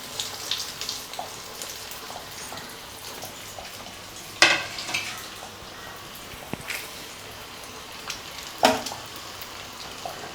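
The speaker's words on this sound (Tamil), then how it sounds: "இப்போ உருண்டையை போட்டுக்கலாம். இது நல்லா பொன்னிறமாக வர்றது வரைக்கும் பொரியட்டும்." Potato lollipop balls deep-frying in moderately hot oil, a soft continuous bubbling sizzle with a few sharper crackles and pops, close and alone.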